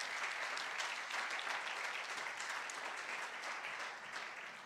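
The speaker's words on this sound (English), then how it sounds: "Let's give them all one more round of applause as they leave." A church congregation at a midweek service applauds children as they leave, a continuous dense patter of clapping from many hands, steady and fairly distant, fading slightly toward the end.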